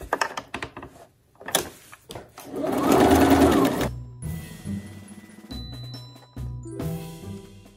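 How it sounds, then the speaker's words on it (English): A sewing machine stitches the side seams of a fabric basket through inner and outer fabric layers, a steady whirring run in the middle between short bursts of stitching, starting and stopping, with a few clicks and handling noises around it. "we've just sewn the left and the right together on both the inside fabric and the front fabric"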